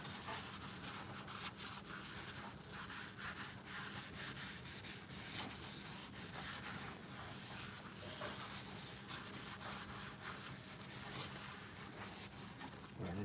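Rub 'n Buff is rubbed onto costume armor for weathering, giving a continuous close, soft scrubbing and rubbing texture that stays steady and fairly quiet throughout, with no talk.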